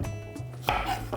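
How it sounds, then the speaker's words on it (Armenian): A knife cuts cucumber into small cubes on a board, a couple of close, crisp chops over a short stretch, with a low background hum. "Մանր խորանարդիկներ ենք կտրատում։"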